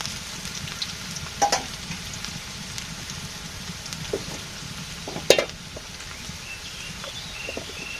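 Onions frying in a pan for a pangas fish curry give a loud, steady sizzle throughout, with a couple of sharp spatters and clinks of stirring.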